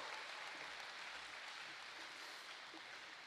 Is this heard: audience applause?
yes